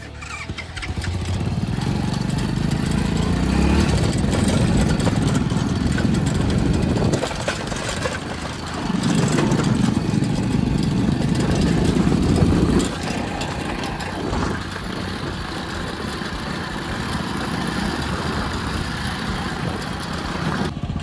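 A KTM motorcycle engine running at idle nearby, a steady low rumble that rises in two longer bursts of revving before settling back to a continuous idle.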